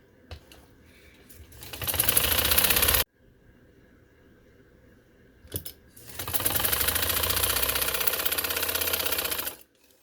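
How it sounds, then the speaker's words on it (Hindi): Close, loud bursts of sewing machine stitching run along a round neckline on golden fabric: one short run, a pause, then a longer steady run that stops abruptly. "अच्छा भी जब ये मैं सिलाई लगा रही हूँ गोल गले को।"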